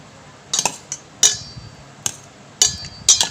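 Gulab jamun being turned and mixed in sugar syrup in a pot, giving several sharp, separate clinks of a spoon against the metal pot spread over a few seconds, close and fairly loud, with no talking.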